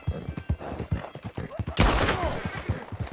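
Rapid gunfire in Red Dead Redemption 2, a string of sharp close shots in quick rhythm with a louder blast midway and horse hooves clopping around them.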